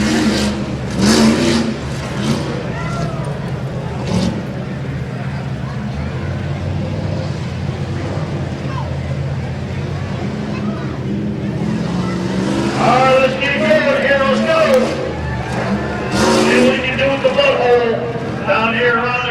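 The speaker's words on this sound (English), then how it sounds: "Jeep Grand Cherokee, driven by Richard Lutzenberg" The engine of a 1998 Jeep Grand Cherokee revs hard on a rough truck course through water and up a hill, rising and falling loudly over a steady roar while an announcer talks over the PA.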